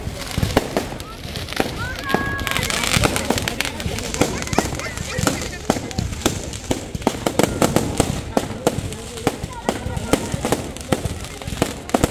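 A colour rain fireworks display crackles and pops densely and nonstop, with sharp bursts scattered throughout and voices faintly audible in the background.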